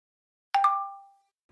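A phone text-message alert sounds once: two quick bright chime notes ringing out and fading over about half a second, alone in an otherwise quiet space.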